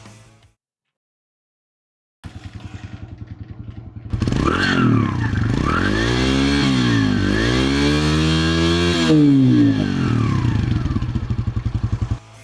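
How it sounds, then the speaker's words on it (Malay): A 127cc single-cylinder, single overhead cam four-stroke motorcycle engine, on a Zontes bike, ticks over with a rapid pulsing idle, then rises into a loud, wavering rev that climbs and falls before dropping back to idle. "Enjin datang dengan 127cc, single cylinder, single overhead cam, 4 stroke, 4 speed. Inilah bunyi dia."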